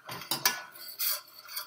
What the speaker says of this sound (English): You gotta keep stirring it though, because you don't want it to burn.